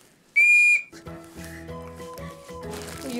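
A loud emergency whistle from a disaster-preparedness kit gives one sharp, steady blast of just under half a second. Background music and light handling sounds follow it.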